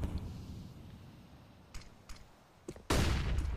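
Desert Eagle shots in a Counter-Strike match: a few sharp, faint cracks spaced apart, then a louder burst near the end over a low background murmur.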